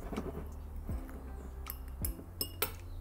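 A fork scrapes and clinks against a bowl while mixing wheat flour and yeast, with scattered metallic taps and a few brighter clinks near the end, close and fairly quiet.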